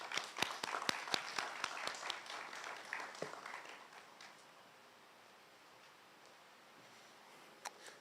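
Audience applause at a court e-litigation portal launch event in Montserrat, a room of clapping that tapers off into near silence after a few seconds.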